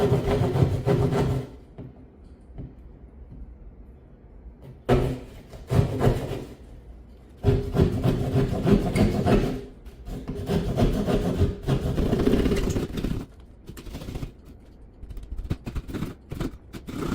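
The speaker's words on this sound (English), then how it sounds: "Let's get that drywall saw up." A drywall saw rasps through a wall panel to cut a hole for an electrical box, in several bursts of quick back-and-forth strokes separated by short pauses, close and fairly loud.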